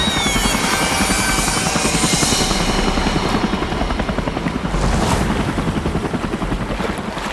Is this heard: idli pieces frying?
no